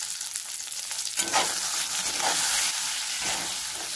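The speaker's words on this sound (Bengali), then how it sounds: "একটু হালকা করে একটু বেগুনটা ভেজে নেবো" Eggplant frying with salt and turmeric in a pan, a quiet sizzle that jumps louder and stays strong as pieces are stirred and turned, with scraping and shuffling close by and no voices.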